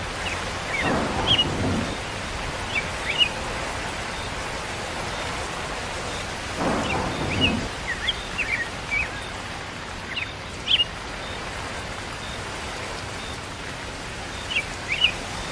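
Steady light rain patters outdoors, with a couple of louder gusty swells and occasional bird chirps in the background.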